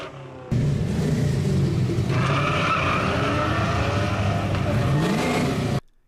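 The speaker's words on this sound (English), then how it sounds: "the Mustang GT is the perfect car for you, as it's a blast to drive and again makes some awesome noise." Ford Mustang GT V8 driving hard, its engine note climbing and shifting through gears with tire squeal, loud and close for several seconds with no talking.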